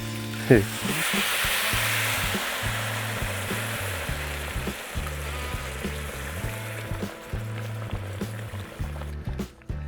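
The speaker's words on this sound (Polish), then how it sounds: "Zalewamy to yy, wszystko teraz czerwonym winem." Pork ribs in a pot sizzling loudly as about a litre of semi-dry red wine is poured over them, with steady, dense frying hiss and rhythmic stirring clanks throughout.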